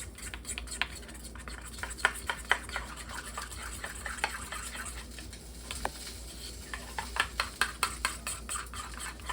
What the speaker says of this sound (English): mustard, and honey. And then you just mix it together.